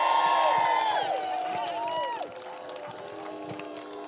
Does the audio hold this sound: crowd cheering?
yes